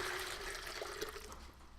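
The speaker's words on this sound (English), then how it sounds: "I'm gonna add a little bit of water to it just to start off." Water runs steadily from a tap or pitcher into a water pitcher, a continuous close splashing fill with no talk.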